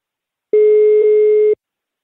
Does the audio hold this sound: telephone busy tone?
yes